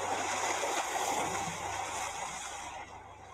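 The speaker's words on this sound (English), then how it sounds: "Water shushing and rushing in, then whispering back to the sea again." Ocean waves wash onto the shore in a steady, full rush of surf and spray, continuous and fairly loud throughout, easing slightly at the end.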